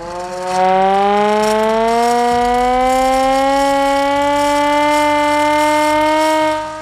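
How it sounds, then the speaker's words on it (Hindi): A hand-cranked civil defense siren in Lahore winds up, its wail rising steadily in pitch and growing louder, then holding a sustained howl nearby. "ये वो सायरन है जो कि जंगों में ये सायरन बजाया जाता था। इसको बाकायदा तौर पर हाथ से चलाते हैं"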